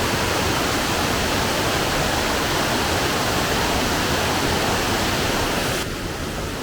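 Raven Cliff Falls in South Carolina roars as a steady, dense rush of falling water, loud and continuous without pause, close enough to fill the whole scene with broadband spray noise.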